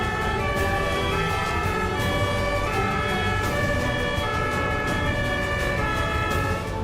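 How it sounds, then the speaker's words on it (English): A German ambulance siren wails steadily and fairly close for the whole stretch, with traffic noise beneath and no talking. "Here's how Germans react to ambulance sirens, instantly making way for the vehicle."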